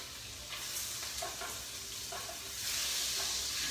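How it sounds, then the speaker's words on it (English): Steady hiss and crackle of butter and oil sizzling in a hot pan for chicken piccata, close and continuous, with a few soft stirring scrapes and no voices. "You hear the sizzle now, right?"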